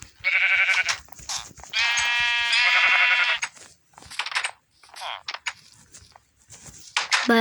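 Several loud, close sheep bleats from a Minecraft-like video game in quick succession, nasal and wavering, followed by scattered clicks and quieter tapping sounds with a brief voice near the end.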